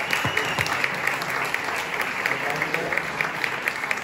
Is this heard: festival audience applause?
yes